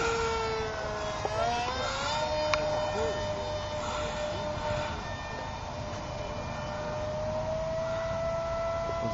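An electric motor on a G.S.A.W. Prizm Hex RC aircraft runs at full throttle, a sustained high whine that bends in pitch as the plane rolls and passes, heard from a distance over outdoor background noise.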